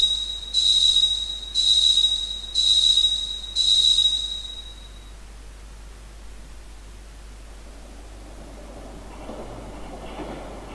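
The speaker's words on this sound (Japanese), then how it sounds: "電車の音が聞こえる" A train in a video game: four evenly spaced high, whistling tone bursts over a steady hiss, then a low, muffled rumble of the running train continues alone.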